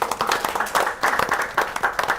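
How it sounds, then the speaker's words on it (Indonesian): Audience members at an Indonesian policy forum on migrant workers applaud, giving a lively run of clapping with a rhythmic, pulsing feel, close and clear. "kita beri tepuk tangan Bapak dan Ibu sekalian"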